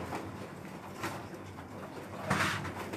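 Soft, low coos from a breeding pigeon repeat a few times, muffled and close, with a slightly louder coo near the end.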